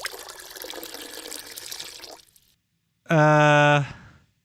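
A water sound effect for a game, like a stream of liquid trickling, runs steadily for about two seconds and then stops, followed by a short burst of a voice close by.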